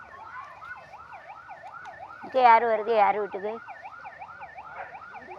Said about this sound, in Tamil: ஆம்புலன்ஸ் அதான் நான் பார்த்தேன்.